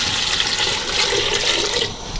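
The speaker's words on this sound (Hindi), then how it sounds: "कुकर के अंदर पानी डालेंगे हम" Water pouring into a pressure cooker on the stove while cooking keema matar, a steady close splashing rush that holds for about two seconds and then eases off.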